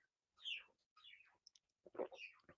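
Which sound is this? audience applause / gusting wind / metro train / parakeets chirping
parakeets chirping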